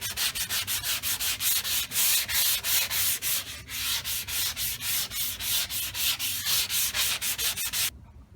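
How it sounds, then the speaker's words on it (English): A soft sanding block works a car quarter panel during auto body repair, rhythmic back-and-forth scratchy rasping strokes, loud and close, roughly two per second, stopping abruptly near the end with no speech. "gotta block that with a soft block."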